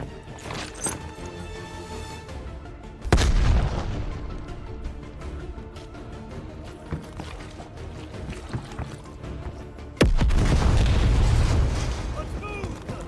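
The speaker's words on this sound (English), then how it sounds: "Incoming grenade!" A grenade explosion and gunfire in the video game Call of Duty: Black Ops Cold War, two sudden loud blasts a few seconds apart, each with a rumbling tail, amid scattered combat noise.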